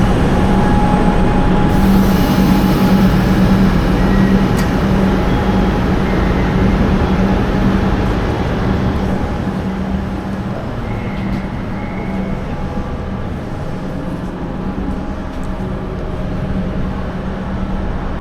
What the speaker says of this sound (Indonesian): akhirnya kereta kita datang juga